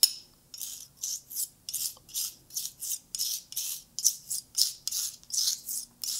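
Pigment being mixed with a touch of walnut oil for a paint binding medium gives a close, fairly quiet run of about a dozen rhythmic rasping strokes, steady and unbroken, with no voices.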